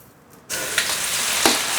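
Garlic hits hot oil with a sudden loud sizzle after a quiet start, then keeps frying steadily with a few sharp crackles.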